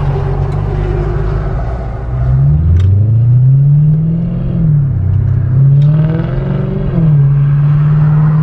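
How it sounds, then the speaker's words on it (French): Close car engine idling with a deep, raspy low rumble, rising and falling through two gentle revs and settling back, steady and loud throughout with no talk. "Ça fait vraiment un bruit sourd, un bruit rauque."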